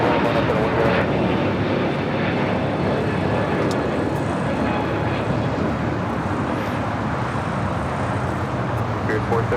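An airliner takes off at LAX, producing a loud, continuous broadband engine roar that holds steady throughout, with a radio voice of air traffic control talking faintly over it.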